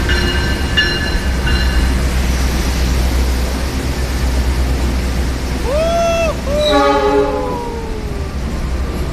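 A freight train rolls in on rails at an Indonesian station, a steady loud rumble of wheels and cars throughout, with a couple of short horn blasts sounding partway through and faint voices in the background.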